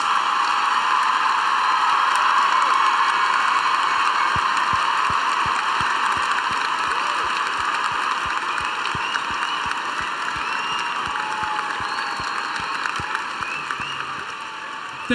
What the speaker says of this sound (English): would you please stand and celebrate him with a round of applause?